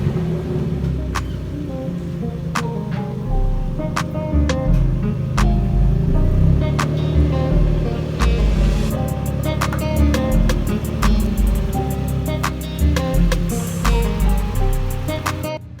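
A 2008-15 Mitsubishi Lancer fitted with a short shifter drives along, its engine rumbling loud and steady from inside the cabin, with small clicks and knocks from the interior and no talking.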